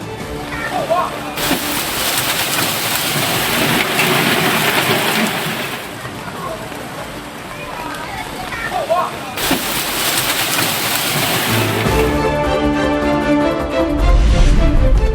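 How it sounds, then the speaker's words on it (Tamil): Hail and heavy rain pour down in Yulin, southwest China, a dense, continuous roaring wash of splashing water under a news narrator's voice throughout. "தென்மேற்கு சீனாவின் யூலின் பகுதியில் ஆலங்கட்டி மழை."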